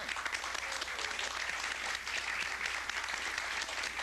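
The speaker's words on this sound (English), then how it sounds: "you people deserve a round of applause yourself" An anniversary gathering for a community access television channel breaks into warm, continuous applause for its access producers, many hands clapping at an even level.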